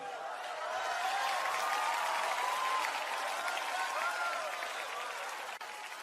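A congregation claps their hands together in church, a dense, sustained round of applause that stays even and fairly loud throughout.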